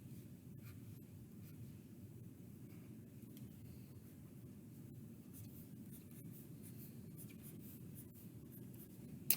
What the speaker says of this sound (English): so let me draw the wall